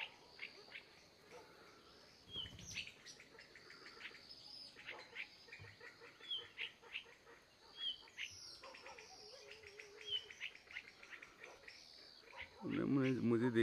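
Wild jungle fowl call in the forest after fighting, among a busy chorus of chirping birds and buzzing insects; someone speaks quietly in the background and a louder rumble comes at the end.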